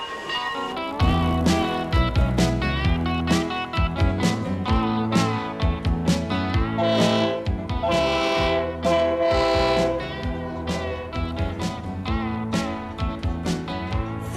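A long freight train rolls past through woodland, its wheels and cars clattering in steady rhythmic beats at close range, loud and continuous with a horn-like tonal layer running over the rumble.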